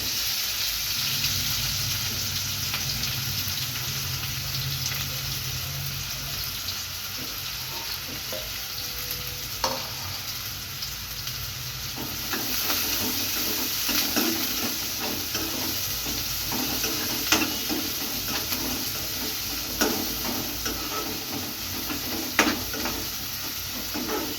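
Chopped onion and green chili frying in a pan with a steady close sizzle, with scrapes and stirring clatter layered over a constant hiss throughout.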